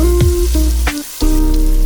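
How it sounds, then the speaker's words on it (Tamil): Crushed garlic and ginger go into a hot frying pan in a home kitchen, setting off a loud, close crackling sizzle with bursts of spitting and popping oil that briefly dip before surging back. "இந்த நிலைமைக்கு வரும்போது இடித்து வைத்த உள்ளியையும் இஞ்சியையும் போடவும்."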